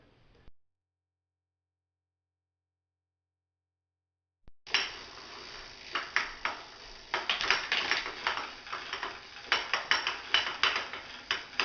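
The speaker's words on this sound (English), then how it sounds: "if there's no resistance on the trainer, you can hear the clanking sound" A Blackburn Ultra bike trainer with its bushings removed rattles and clanks under no resistance. The metallic clatter is rapid and irregular, starts abruptly after a brief sound and a stretch of silence, and then continues steadily.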